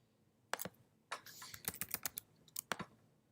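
Quick keystrokes clatter on a computer keyboard in short uneven bursts, close and quiet, with pauses between clusters and no talking.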